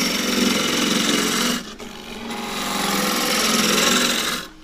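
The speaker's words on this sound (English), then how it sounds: "I aim to get a clean cut in just past where the beads are, really, and under that with a heavier gouge now." A heavy gouge cuts into a small green casuarina bowl spinning on a wood lathe, giving a loud, continuous, close roaring scrape that drops off briefly twice before cutting back in.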